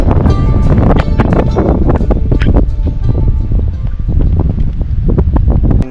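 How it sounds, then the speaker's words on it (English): Strong wind buffets the microphone in loud, uneven gusts aboard a sailboat near Navadra Island, Fiji, with rattling and creaking underneath, steady throughout with brief surges. "So we've got gusts coming through this gap, and gusts coming around the headland here."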